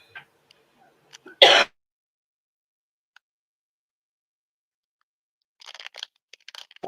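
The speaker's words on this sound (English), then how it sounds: "Now I'm coughing." A single sharp cough bursts out after chocolate was eaten too fast, brief and close, in an otherwise quiet room, followed later by faint scattered sounds.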